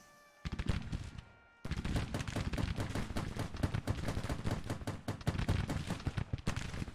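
Cannon and rifle fire in the Civil War strategy game Grand Tactician: after a brief lull, dense volleys of overlapping shots and booms crackle continuously and loudly, a sustained battle din with no talking.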